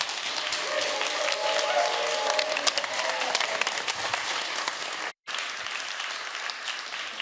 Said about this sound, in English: So I want to hear like the best applause you can offer.